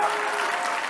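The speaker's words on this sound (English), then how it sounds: "A special mention to Agata and Farhan with a round of applause." Commencement audience applauding at a graduation ceremony, a steady dense wash of clapping filling the whole moment at even loudness.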